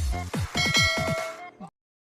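A notification bell ding sound effect, a rapid run of bright metallic chimes ringing out together, close and clear, then ending in a short final tone before silence.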